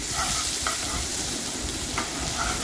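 Blended gravy from the mixer sizzles and crackles as it is stirred into hot tempering oil with mustard seeds, cumin, curry leaves and asafoetida, a steady close hiss broken by a few spoon scrapes.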